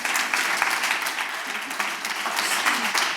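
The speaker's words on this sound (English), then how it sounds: "Please clap your hands for Aimee." An audience at an academic ethics lecture claps for the departing speaker, a steady, moderately loud wash of many hands clapping together with faint crowd murmur underneath.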